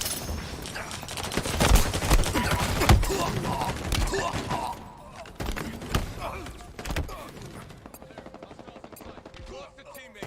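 Rapid bursts of automatic gunfire and sharp shots from a video game crackle almost nonstop, loud and close, with explosive thumps, against a constant game soundscape and a game voice speaking over it.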